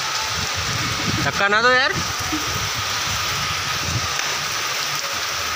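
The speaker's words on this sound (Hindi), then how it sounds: "देख सकते हैं गाइस, कितनी तेज बारिश चालू हो गई है" Heavy rain hisses steadily and loudly the whole time, while someone briefly speaks over it early on.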